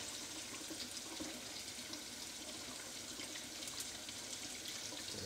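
Water runs steadily from a sink tap while glass votive candle jars are cleaned of wax, a constant, even, fairly faint rushing stream with no talk over it.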